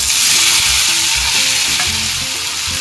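Cut tomatoes and green chillies fry loudly in hot oil in a pan, a dense, continuous crackling sizzle close up, with low clattering stir sounds throughout and no voices.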